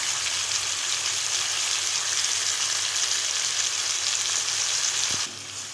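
Tomato pieces with rock salt sizzling in a hot pan for coriander tomato chutney, a loud, dense, continuous hiss that drops suddenly near the end after a low thump.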